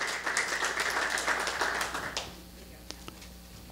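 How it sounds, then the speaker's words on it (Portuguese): Audience applause at a round-table event on construction technology, steady dense clapping for about two seconds that then fades to a few scattered claps. "Uma salva de palmas para o Wesley."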